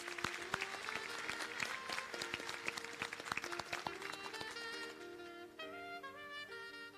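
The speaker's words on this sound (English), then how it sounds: "Please give a round of applause to our graduates." A crowd at a graduation ceremony claps in sustained applause for the graduates, with music playing beneath, the clapping thinning toward the end as the music carries on.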